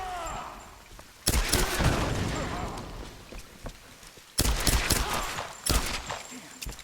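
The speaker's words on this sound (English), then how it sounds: "I shot him multiple times" Video game gunfire aimed at an enemy during a tomb-raiding adventure, coming as two sharp, loud volleys of shots separated by a few seconds, with a player's voice heard between them.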